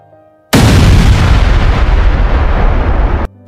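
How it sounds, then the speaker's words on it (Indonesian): Explosion: a sudden loud, close blast erupts into a sustained roaring rumble for about three seconds, then cuts off abruptly, with no speech. "Meledak lagi."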